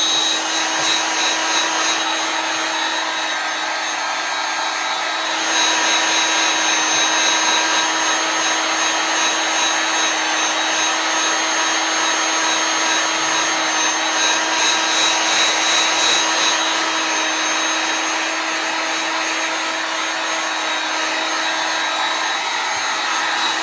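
A heat tool blows warm air to dry chalk paste on a pillow craft, a steady close whirring hiss that swells slightly louder for a few seconds twice, with no talk.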